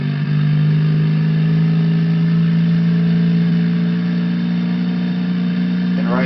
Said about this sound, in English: disengage the brakes and throttle up to max power